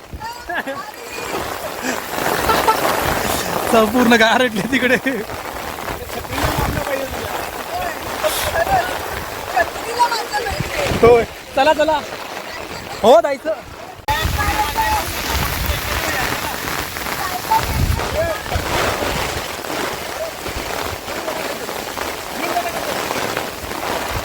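Heavy monsoon rain pours on a hilltop trek in Ratnagiri, a loud continuous hiss close by with a few sharp knocks and rustles, and people talk throughout.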